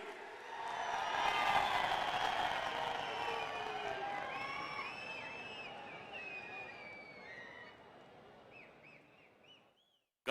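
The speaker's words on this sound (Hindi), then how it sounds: "आपकी जोरदार तालियों के बीच" An audience at an outdoor inauguration of the Banihal–Qazigund road tunnel in Jammu and Kashmir breaks into sustained applause and cheering, dense at first and slowly thinning over ten seconds, with birds chirping faintly over the fading claps.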